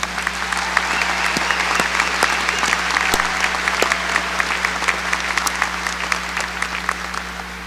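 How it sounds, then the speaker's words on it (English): Sustained applause from a large commencement audience honoring graduates, a dense steady wash of clapping filling the hall without pause, loud and continuous throughout. "Let's give all these graduates one more round of applause."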